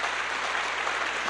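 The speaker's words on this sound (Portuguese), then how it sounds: "Aplauda Jesus." A church congregation claps steadily in a brief burst of dense, even applause that fills the room with no break in it.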